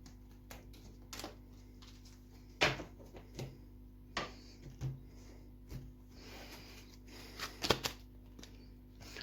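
Tarot cards shuffle and slap together close by in irregular bursts, with soft riffling and occasional sharper snaps against a quiet background.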